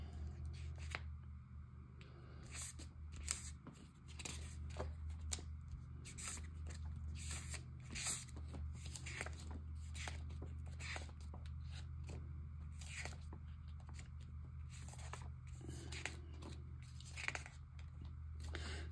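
Scissors snip through paper while a collage is trimmed, giving a steady run of crisp, close cuts and rustles over a soft background hum, with no clear talk.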